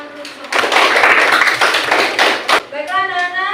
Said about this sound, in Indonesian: Bisa kasih tepuk tangan dulu.